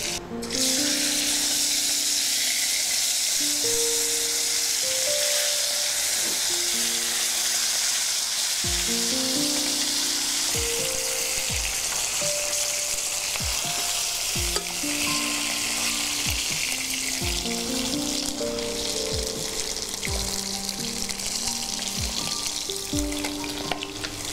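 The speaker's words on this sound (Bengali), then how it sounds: "মাছ ভাজা কমপ্লিট হয়ে গেছে আমাদের" Pieces of katla fish fry in hot oil for a mango fish curry, with a loud, steady sizzle broken by repeated clinks and scrapes of a spatula turning the fish.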